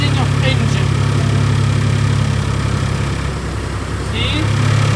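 A truck tractor's engine takes up load as the clutch is slowly released in second gear during an in-cab air brake check, a loud steady low rumble that dips slightly in the middle, then recovers.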